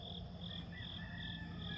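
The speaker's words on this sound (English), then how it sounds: "we're hearing the crickets" A dense chorus of crickets chirps at dawn in steady pulsing trills, close and continuous, with a soft background hum.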